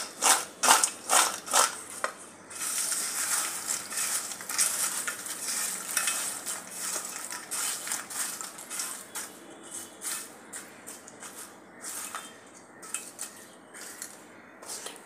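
Fried nachos being tossed and mixed with masala spice powder, producing a steady run of scraping, rustling stirs with sharper clinks early on, close and moderately loud, no voices.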